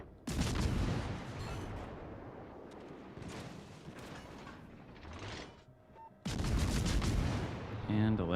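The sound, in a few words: warship gunfire in video game World of Warships: Legends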